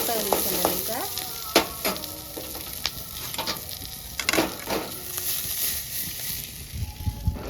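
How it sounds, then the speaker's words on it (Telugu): Onions fry in a pan with a continuous close sizzle, broken by repeated sharp scrapes and clatters of a spatula stirring them. "ఉల్లిగడ్డ ఫ్రై అయింది ఫ్రై అయిన ఉల్లిగడ్డ"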